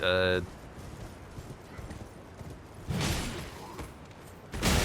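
Horse hooves in Elden Ring: Shadow of the Erdtree clip-clop in soft, steady steps, with brief louder whooshing bursts and a short tonal sound at the start.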